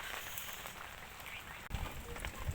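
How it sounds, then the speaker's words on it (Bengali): Heavy rain pouring down outdoors around a damaged kitchen, a constant rushing hiss of drops with a brief thud and some low rumbling handling noise, fairly close. "প্রচুর বৃষ্টি হচ্ছে।"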